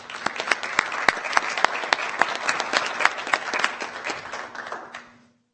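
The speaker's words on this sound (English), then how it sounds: "So a round of applause for them" An audience claps at a county board of supervisors meeting in a hall, a steady round of applause with a few sharp individual claps standing out, ending abruptly after about five seconds.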